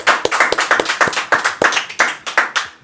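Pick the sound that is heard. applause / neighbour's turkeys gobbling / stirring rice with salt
applause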